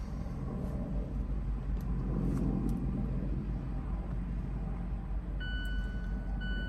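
The engine of a Mazda CX-9 Carbon Edition SUV runs after a restart, giving off a continuous low rumble at close range with no one talking.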